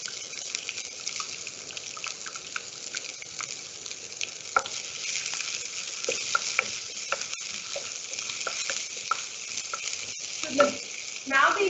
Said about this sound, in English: Now the important part is to caramelize the onions.